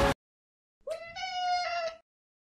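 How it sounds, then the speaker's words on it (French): A cat gives one clear, drawn-out meow close by, rising and then holding before it fades, after a brief noise at the start and silence. "C'est le chat!"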